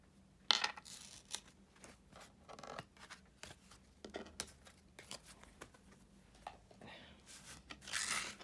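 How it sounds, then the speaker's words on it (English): Oracle cards are laid down one after another on a table in a quiet room, making quick, soft slaps and papery flicks in an irregular rhythm, close and faint, with no talking. "cards are going down quick today"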